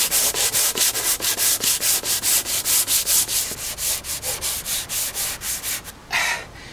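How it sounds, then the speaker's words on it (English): Hand sanding of wood with coarse 80 grit sandpaper while building a console table: loud, close, steady back-and-forth strokes in an even rhythm of about three per second, with a brief pause and a final rougher scrape. "I'm using a fairly coarse paper, it's actually an 80 grit"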